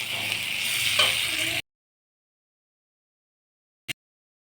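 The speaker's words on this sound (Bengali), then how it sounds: "বন্ধুরা এই যে পটল আলুর সঙ্গেও ভালো করে কষিয়ে নিয়েছি, দেখতে পাচ্ছ তেল ছেড়ে দিয়েছে।" Pointed gourd and potatoes sautéing in oil give a steady, close sizzle for about a second and a half, then the sound stops abruptly and one short click follows after a silence.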